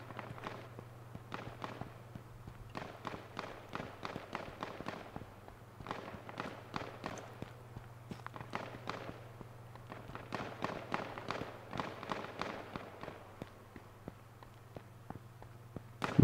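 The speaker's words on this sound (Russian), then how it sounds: "Так, что-то перестали стрелять. Не, вот, слышно." Gunfire in the H1Z1 battle royale video game, heard as repeated bursts of sharp, distant-sounding shots in uneven clusters over a steady low hum, with no talking.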